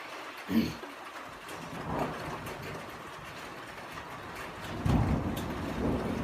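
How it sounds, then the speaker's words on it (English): Thunder rumbling through a welcome storm blown up from the south: low, rolling booms rise briefly near the start and again toward the end, over a faint background of rain and distant birds. "There's the thunder."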